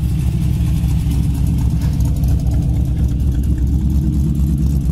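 A 1969 Chevy Nova's engine idles with a mild cam, a loud, close, steady low rumble with a slightly lumpy, loping pulse and no talking over it.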